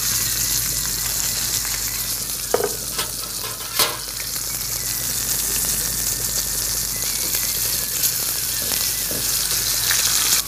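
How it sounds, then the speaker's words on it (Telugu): Fish frying in an open pan, a steady loud sizzle with broadband hiss throughout and a few brief clatters of a utensil; no talking. "తర్వాత ఈ చేపలను తిప్పాలి ఇటు"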